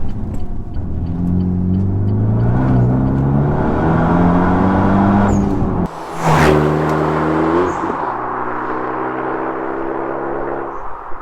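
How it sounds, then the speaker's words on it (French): A Renault Megane 2 RS R26R with a titanium exhaust line revs hard, its loud engine note climbing in pitch through repeated runs, briefly cutting out with a blip and sharp burst before pulling up again, heard close and alone. "le son de la ligne titane, accouplé au Dekata GT Performance"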